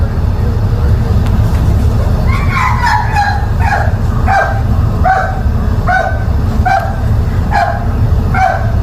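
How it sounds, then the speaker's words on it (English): A police dog barks repeatedly in short, sharp yips while searching a vehicle, over a steady vehicle engine hum, fairly close and evenly spaced. "they've got the dog searching, sniffing the vehicle right now"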